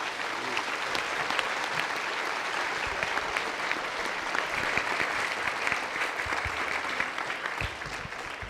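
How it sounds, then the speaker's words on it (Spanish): A large audience applauds guests at a journalism panel discussion, steady dense clapping throughout at an even volume with no voices over it. "Quisiera pedirles muy atentamente que le demos un gran aplauso a nuestros invitados."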